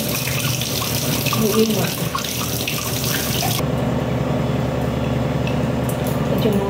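A kitchen tap runs loudly and steadily while fish are washed under it, with the water splashing and changing tone partway through as a voice speaks briefly.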